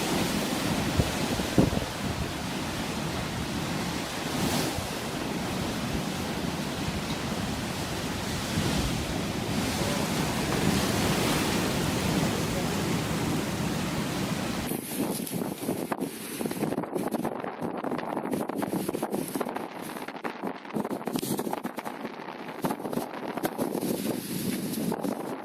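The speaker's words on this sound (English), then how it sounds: "A pier in North Yorkshire gets overwhelmed by the dominant sea." Rough sea waves crash against a pier in North Yorkshire, a constant broad roar of surf with heavy wind buffeting the microphone, turning harsher and hissier partway through.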